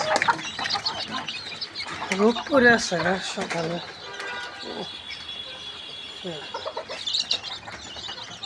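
A rooster crowing and clucking nearby among chickens in the morning, with bursts of bird calls mixed with a person talking close by.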